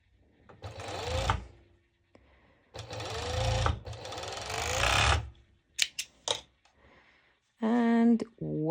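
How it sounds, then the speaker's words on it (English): A serger sewing machine stitches fabric for high-waist ruffled bottoms in three long, steady whirring runs, then a few short clicks and a brief voice-like tonal burst near the end. "So the same, I am serging it directly"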